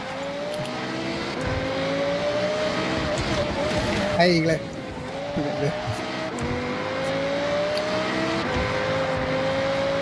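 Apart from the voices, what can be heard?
car engine revving in a video game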